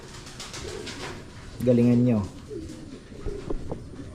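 A pigeon's low, throaty coo rises briefly amid outdoor background noise, with a person speaking a few words of Filipino nearby.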